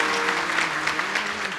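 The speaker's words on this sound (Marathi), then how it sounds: "एकदा टाळ्या वाजवा त्या आजीसाठी." An audience at a Marathi kirtan claps steadily for an elderly grandmother who donated 1,000 rupees, a dense, continuous round of applause under faint sustained tones.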